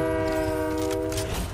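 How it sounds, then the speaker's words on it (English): A train horn in the video game Fortnite blares as one loud, sustained chord that holds steady and then begins to fade, with little else audible. "Train!"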